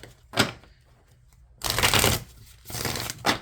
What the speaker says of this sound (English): Just going to shuffle quickly.